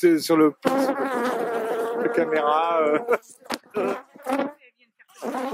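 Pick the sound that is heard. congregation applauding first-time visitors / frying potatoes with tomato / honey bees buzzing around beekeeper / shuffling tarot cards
honey bees buzzing around beekeeper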